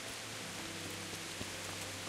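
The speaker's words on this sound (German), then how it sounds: "Oh, das regnet schon wieder." Steady rain falls in the medieval video game Kingdom Come: Deliverance, a soft even hiss of drops on surfaces with faint scattered ticks, alone and unbroken.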